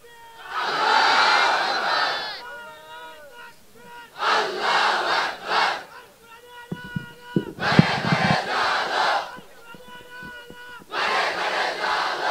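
A mosque congregation shouts takbir during a Bangla Islamic sermon: four loud, massed bursts of chanting voices, each lasting one to two seconds, separated by quieter pauses.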